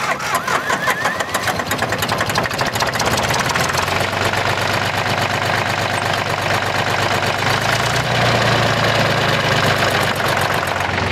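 A Porsche Diesel Super 308 tractor diesel engine cranks, catches and settles into a loud, steady knocking idle, heard up close with no talking over it.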